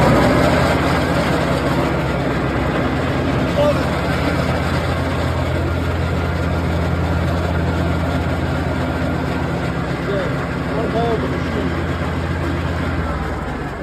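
A 2019 Exmark LZS88CDYM96RW0 zero-turn mower with electronic fuel injection runs with throttle up and the PTO blades engaged, a loud steady low engine drone that holds constant and close.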